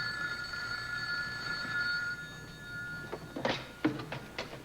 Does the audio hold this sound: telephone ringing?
yes